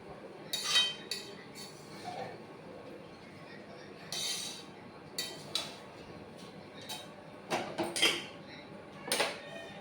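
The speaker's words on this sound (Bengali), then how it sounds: "দেখছো তো বন্ধুরা, এইভাবে এটাকে ভালো করে নাড়াতে হবে।" Fried rice stirred in a pan, giving intermittent clinks and scrapes of a utensil against the metal, spaced irregularly with short bursts, close and fairly soft with no speech.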